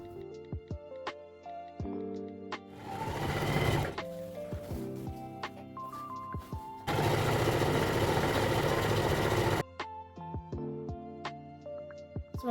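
An electric sewing machine stitches along the edge of an ankara fabric circle skirt, running in several bursts separated by pauses, with a long steady stretch of whirring in the middle. Faint background music plays beneath.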